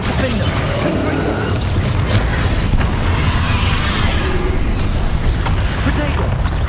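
Explosive spell blasts in the Hogwarts Legacy video game, with heavy booming crashes and deep rumbling impacts throughout a loud combat soundscape, while a player talks over the action.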